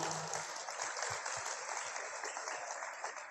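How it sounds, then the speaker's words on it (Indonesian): Audience applause for first-year students at a campus anniversary celebration, a steady, fairly faint clapping wash lasting a few seconds with no talk over it. "Jadi kita beri aplaus untuk teman-teman angkatan pertama."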